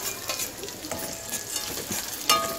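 Peanuts being stirred into a spicy Kolhapuri green chili thecha, giving soft scraping and a light sizzle from the pan with a brief louder scrape near the end, no talking.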